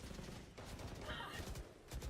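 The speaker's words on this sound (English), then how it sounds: "A lot of bullets flying forwards here." Faint, distant gunfire from the Valorant video game rattles in a continuous spray under a low ambient bed, with no single shot standing out clearly.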